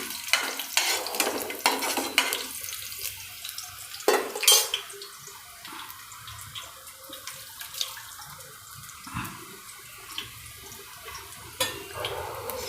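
Curry leaves and green chillies crisping in hot oil for a Gujarati thepla chevdo, a soft continuous sizzle broken by sharp scrapes and clinks of a stirring spoon against the pan, close and fairly quiet.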